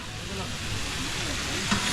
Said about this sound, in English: So he's here, big giant frying pan.